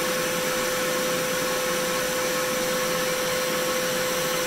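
A 1936 Presto K8 portable record lathe cutting a record gives a steady, loud whooshing hiss with a constant high tone running through it, with no pauses.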